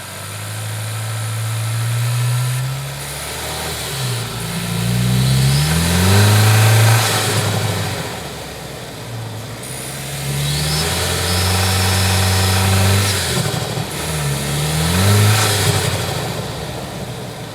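A 2025 Toyota Tacoma engine fitted with an aftermarket mod revs repeatedly, climbing and falling between steady idle stretches in a loud, close, deep-toned run with no talking.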